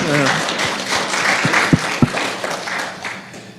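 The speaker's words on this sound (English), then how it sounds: "I think that deserves a hand clap right there" Audience applause during a talk about the book Spell Freedom, a broad wash of clapping from listeners that tapers off, with a few sharper claps and some talk in the mix.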